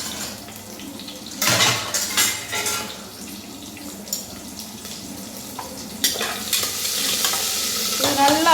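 Small shallots and cinnamon sautéing in a pan for a mutton or chicken curry, a steady sizzle broken by bursts of stirring and scraping against the metal, with occasional clinks, close and fairly loud, no talking.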